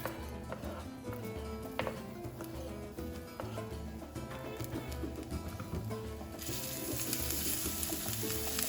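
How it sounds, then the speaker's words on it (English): Onions frying in a hot pan alongside vegan taco meat give off a steady, fairly loud sizzle that keeps going throughout and grows brighter and hissier toward the end, with no talking over it. "I'm gonna cook these onions for a couple minutes"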